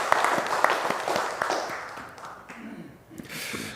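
Congregation clapping during a Sunday church worship service, a dense patter of many hands that fades briefly then picks up again, fairly distant and reverberant.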